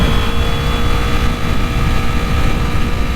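A Kawasaki Z250 motorcycle engine held at high revs around 8000 rpm in third gear, a loud, steady, dense drone that stays constant throughout without pause.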